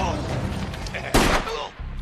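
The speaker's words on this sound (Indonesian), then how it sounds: "dengan terpaksa salah seorang dari mereka mengeluarkan pistol untuk mengancam Klondike" A pistol shot in an action film scene, one sharp loud broadband burst cutting through a dense soundtrack of music and effects, its tail fading over about half a second.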